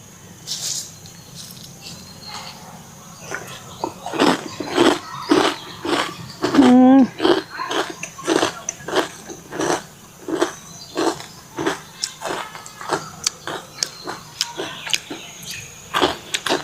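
Crunchy badam jhuri, a fried peanut snack, being eaten up close, with a long series of sharp, crisp bites and chews in an uneven rhythm, and no talking.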